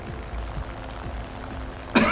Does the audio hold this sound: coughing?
yes